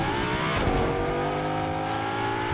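A car engine drones and revs steadily while driving across a bridge in Fortnite, loud and close, with a brief rise in intensity early on and no talking.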